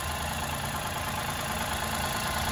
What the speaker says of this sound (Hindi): सो ये है एल्ट्रोज का इंजन,